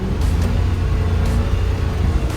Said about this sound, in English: And then we can see it just revs out and doesn't want to go.